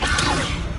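A Leviosa levitation spell cast in Hogwarts Legacy, a brief airy whoosh with a soft low thump, loud and close, fading within a second.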